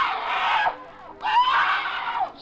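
A woman screams twice in a drama scene, two long, loud, shrill cries separated by a brief pause, close and alone with no talk over them.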